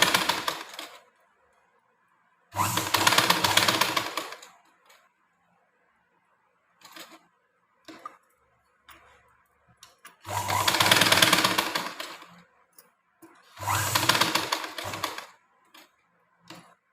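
Sewing machine stitching a blouse, running in four loud bursts of a few seconds each separated by quiet pauses with faint handling clicks, close and alone.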